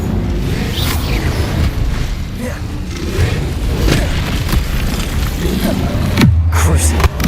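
Casting the Incendio fire spell in Hogwarts Legacy produces a loud, continuous roar of game effects that ends in a sudden bright burst near the finish.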